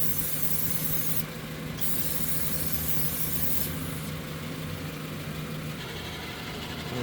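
Cleaner sprays in a loud, steady hiss under a Toyota RAV4 transmission, close up, with short gaps in the high hiss and a running engine droning underneath.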